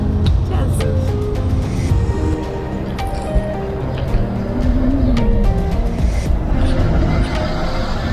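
Car traffic rumbles steadily through the narrow streets of Faro's old town, a close engine hum with brief clatters and bumps, with people talking faintly underneath.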